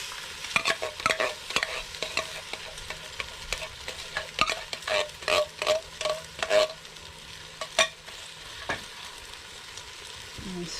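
Chili spices and spaghetti sauce stirred in a pot on a rocket stove, with repeated scraping strokes of a spoon in a steady rhythm over a low background sizzle, close up and with no talk.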